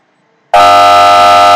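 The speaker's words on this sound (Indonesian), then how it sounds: "Tunggu alarmnya muncul." An alarm in a bottled-drink filling factory simulation starts suddenly after a brief silence and holds as a loud, steady, harsh buzzing tone, like a horn, until the end.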